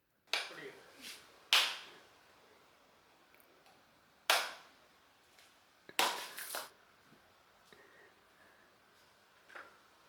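A fresh coconut being husked: several sharp, loud tearing and cracking bursts, spaced a second or two apart, with quiet gaps between.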